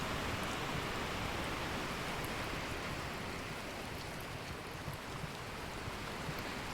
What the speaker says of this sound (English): We're still getting rain.